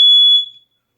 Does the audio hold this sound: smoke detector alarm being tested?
yes